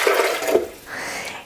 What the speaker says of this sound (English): I use some fresh spring water, so I'm going to pour that in.